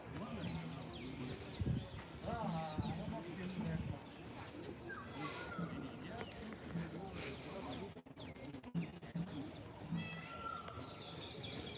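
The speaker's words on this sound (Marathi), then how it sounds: "मोर ओरडत आहेत मोर आहेत भरपूर इथं" Peacocks call in the grounds of the Anuradhapura Bodhi Tree and Ruwanweli stupa site, with repeated loud wailing cries that rise over a busy outdoor murmur of people talking nearby.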